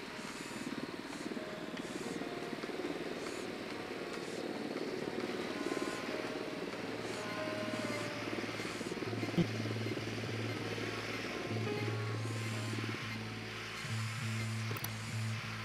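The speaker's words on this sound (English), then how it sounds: "I hear the drone, man. Bring it back." A reconnaissance drone in the video game Ghost Recon Wildlands hovers with a steady rotor whine and a low engine drone, a continuous mechanical buzz layered over game ambience, with a sustained low tone building toward the end.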